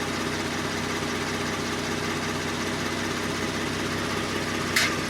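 A 2019 Kia Stinger idles while its transmission is run through the gears, a steady low engine drone holding even throughout, with one small click near the end.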